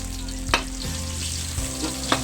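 Ginger sizzles in oil for chicken curry, stirred in a pan. A continuous close frying hiss carries a low hum, broken by two or three sharp spatula scrapes.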